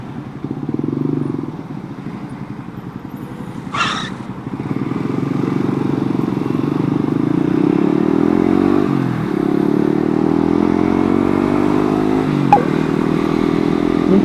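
Riding a Yamaha M-Slaz motorcycle: the engine drones steadily and close, rising and falling with gear changes and throttle, with a brief sharp clatter partway through; no talk.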